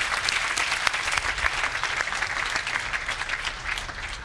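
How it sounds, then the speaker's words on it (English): Dense, steady applause from a crowd at a body-language seminar, loud and continuous throughout with no voices on top. "Give these guys again a big round of applause"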